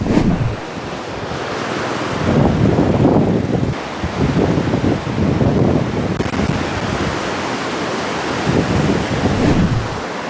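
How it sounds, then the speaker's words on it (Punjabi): The swollen Ravi river rushes under a bridge in a loud, continuous roar of churning water, mixed with gusty wind buffeting the microphone, with no voices. "ਦਰਿਆ ਰਾਵੀ ਪੂਰਾ ਸ਼ੂਕ ਰਿਹਾ ਬਹੁਤ ਪ੍ਰੈਸ਼ਰ ਦੇ ਨਾਲ ਪਾਣੀ ਪੁਲ ਦੇ ਥੱਲੇੋਂ ਦੀ ਨਿਕਲ ਰਿਹਾ ਬੜੀ ਤੇਜ਼ੀ ਦੇ ਨਾਲ"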